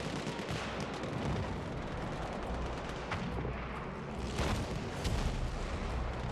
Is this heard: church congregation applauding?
no